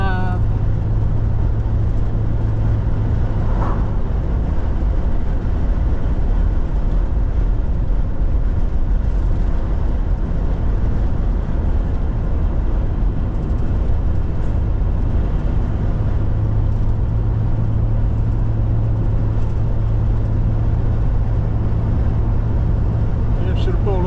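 A car driving on US Highway 41S near Tracy City, a loud continuous engine and road rumble with a steady low hum from inside the cabin, unbroken for the whole stretch, with people talking over it.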